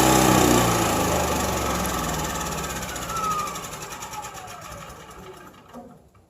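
An inverter generator drones loudly at full power nearby, then shuts off, its steady buzzing hum winding down and fading over several seconds to near silence.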